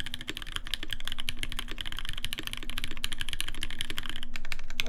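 Fast, steady typing on a newly built Reborn60 mechanical keyboard, dense loud key clicks close to the microphone with no pauses.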